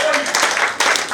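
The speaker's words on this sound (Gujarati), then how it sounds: "એકવાર 3 વાર જોરદાર તાળીઓ પડવી જોઈએ અમારા બાળક માટે" Guests clap as a blessing for the baby at a baby shower, a brief burst of applause mixed with voices in the room.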